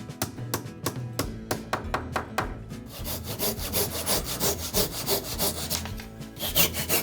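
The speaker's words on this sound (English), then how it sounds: "Cutting the dados and plugging them holds firmly and looks clean." A Japanese carpenter hand-saws dados into a wooden column for a household altar room. Close, loud rhythmic strokes start with a few separate pulls, then become quick, steady back-and-forth sawing, with no talking.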